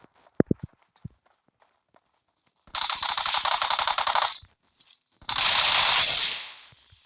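Video-game firefight gunfire: a few sharp isolated shots, then two long, loud bursts of rapid automatic fire separated by a brief gap.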